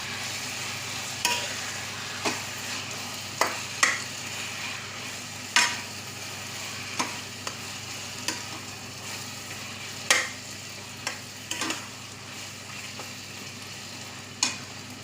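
Fresh mint and coriander leaves sauté in a pan for a South Indian mushroom biryani, a soft continuous sizzle punctuated by about a dozen spaced stirring scrapes and clinks.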